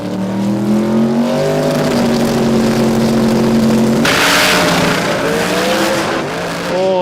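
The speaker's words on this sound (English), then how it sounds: "You're going to hear him spool the turbos up on the start line and then bump that thing in violently." A turbocharged drag race car at Willowbank Raceway in Australia spools its turbos on the start line with a loud rising whine, then launches violently in a roaring burst of engine noise, all loud and close.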